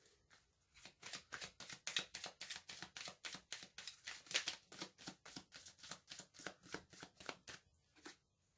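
Tarot cards being shuffled and drawn in a long run of quick, evenly spaced riffling bursts, fairly close, ending with a single last slap of a card.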